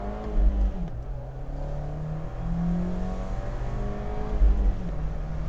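Turbocharged engine of a 2018 Fiat 124 Spider Abarth growls steadily and close, holding a low rumble that rises and falls slightly with throttle, with no voices over it.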